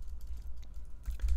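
Computer keyboard typing while code is entered, heard as soft, quick clicks over a steady low hum, with a brief denser burst near the end and no voices.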